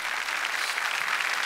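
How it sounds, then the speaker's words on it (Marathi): Loud, steady applause from a studio audience at a Marathi comedy show, dense clapping filling the whole moment without any voices. "जोरदार टाळ्या."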